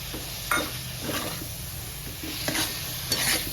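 Grated coconut and a little milk get stirred in a hot kadhai, giving a continuous soft sizzle with periodic scraping strokes of the spoon against the pan, close and alone without talk.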